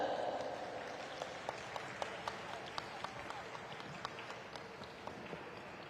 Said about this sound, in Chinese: 掌声欢迎舞者